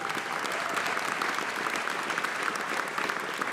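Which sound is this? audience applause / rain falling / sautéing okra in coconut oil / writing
audience applause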